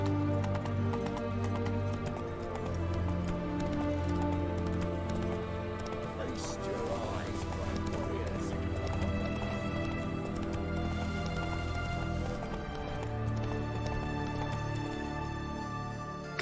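Roach the horse gallops in The Witcher 3 on Nintendo Switch, a steady run of hoofbeats buried under dense, continuous orchestral game music for the whole stretch.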